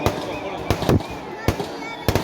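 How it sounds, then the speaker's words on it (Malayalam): Several sharp firecracker bursts pop at irregular intervals, fairly close, over a constant background hum, at a New Year celebration in Kerala. "പടക്കം അവിടെ പൊട്ടിക്കോളും"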